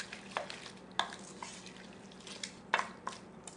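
Beef tostada filling with jalapeño and cilantro is mixed in a bowl, producing soft, sporadic scraping and clicking spoon strokes, close and quiet.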